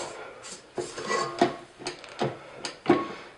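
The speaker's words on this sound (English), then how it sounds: "So really scrape out those little corners of your paddle in your mixer and your bowl" A spatula scrapes around a stand mixer's bowl and paddle while making buttercream, giving a series of short scratchy strokes with light knocks of utensil on metal, close and fairly loud, with no talk.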